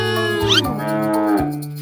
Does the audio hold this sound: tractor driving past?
no